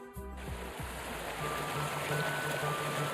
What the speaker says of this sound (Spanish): Es el ruido del agua, sonido limpio y puro de la fuente de vida